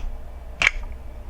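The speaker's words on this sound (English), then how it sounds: "That sound lets you know that the film has been rewound all the way." A Minolta XK film camera gives one short, sharp click as its film finishes rewinding, close up against quiet room tone.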